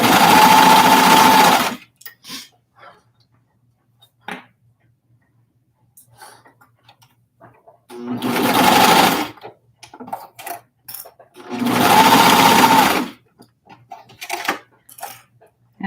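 A sewing machine stitching in three loud, close bursts of rapid mechanical whirring, separated by quiet gaps filled with small clicks and handling noises.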